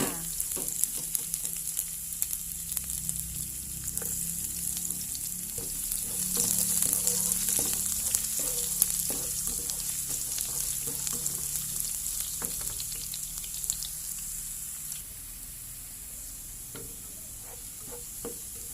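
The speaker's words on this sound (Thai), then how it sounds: "ใส่กระเทียมลงไปค่ะ" A steady, close sizzle of garlic frying in hot oil, with occasional light scrapes of stirring, continuing without any voices.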